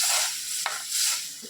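Paneer masala gravy with ground masala water sizzles in a pan while a spoon stirs it, giving close, bubbling hiss with a scrape of stirring midway and no talk.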